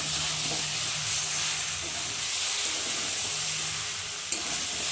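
Malabar spinach cooking with prawns in a pan gives a constant close sizzle and hiss while being stirred, the frying noise steady and fairly loud throughout.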